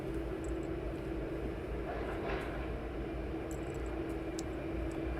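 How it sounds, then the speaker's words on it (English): A Star Air Boeing 767 on final approach at East Midlands Airport gives a continuous, fairly distant jet roar with a steady whine, low and even over the whole stretch. "the Star Air 767. Yep, it's got an aircraft on final now"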